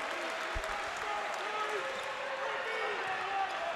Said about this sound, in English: Crowd starting to make some noise as the students in the south end zone jump up and down